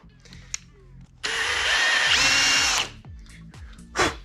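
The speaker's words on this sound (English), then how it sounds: "I'm going to drill that hole out." A power drill bores a hole through an interior door during installation, whirring steadily and loudly for about a second and a half, with scattered clicks and handling knocks before and after.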